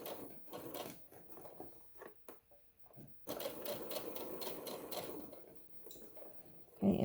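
A sewing machine stitches along the edge of a tote bag, running in short starts and stops before a steady continuous run, close up and fairly quiet, with no talk.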